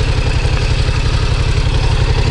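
A 2018 Yamaha MT-07 motorcycle engine runs steadily nearby, a loud, rhythmic low-pitched throb with mechanical clatter above it and no talking.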